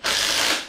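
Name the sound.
number 13 ratchet tightening bolts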